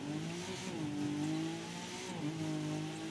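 A Nissan GT-R engine in The Crew 2 racing game revs steadily and loudly, its pitch rising, dipping and climbing again in smooth sweeps, heard alone without voices.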